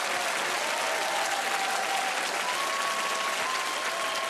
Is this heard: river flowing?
no